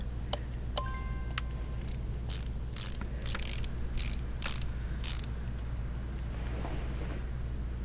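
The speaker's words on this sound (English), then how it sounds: "that sound, putting the tires on, the sound of that wrench, I really enjoy that" Wrench tightening car tire lug nuts in Car Mechanic Simulator 2018, a quick series of rapid ratcheting bursts and clicks over a steady low engine-like hum, with no talking.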